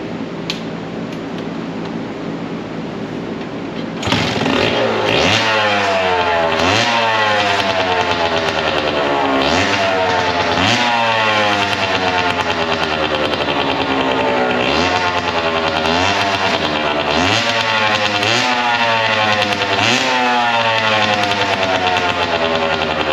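An old smoking engine that needs rings starts up and runs loudly and close, revving repeatedly in rising and falling sweeps over a rough idle, with no talking.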